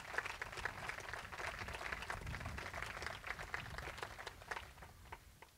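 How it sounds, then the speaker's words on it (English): An audience at an outdoor groundbreaking ceremony applauds in a steady, fairly distant wash of clapping that fades slightly toward the end. "Let's give him a round of applause"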